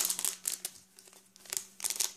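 Scissors snip through crinkly material while making Poppin' Cookin' cookies, giving a series of short, close, dry cutting crunches in uneven bursts with brief pauses between.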